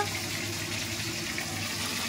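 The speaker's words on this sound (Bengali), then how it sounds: "আজকে পমফ্রেট মাছ হবে। এই যে দেখো, দুটো ভাজা বসিয়েছি" Pomfret fish frying in hot oil in a pan, a steady close sizzle that runs unbroken and fairly loud with no talk.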